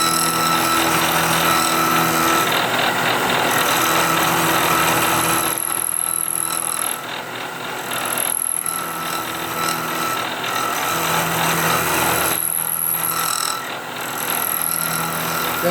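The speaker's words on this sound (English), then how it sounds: "I hear a little bit of chatter going now because this isn't a real solid setup" A steel part for Browning A-Bolt scope rings is machined on a loosely held setup, with a continuous tonal whine and chatter from the cutting tool, dropping out briefly several times as the cut pauses.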